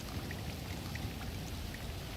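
Rain falls in the Grand Theft Auto V game world as a steady, soft hiss of drops, faint and even throughout, with no voices.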